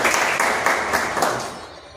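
A brief burst of audience applause welcomes a newly named office-bearer at a district committee gathering in Nizamabad, a dense patter of claps that fades over two seconds.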